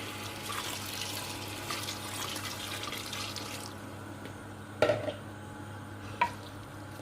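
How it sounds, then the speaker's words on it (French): Broth is ladled gradually over paella rice in a pan, a soft, faint liquid pour and sizzle that fades partway through, followed by a couple of brief clinks of a utensil against the pan. "Et je vais commencer à arroser petit à petit le riz avec le bouillon."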